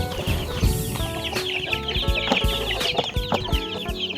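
Chickens and chicks in a Filipino poultry farm cluck and peep continuously, close and busy, with overlapping calls and occasional sharper squawks throughout.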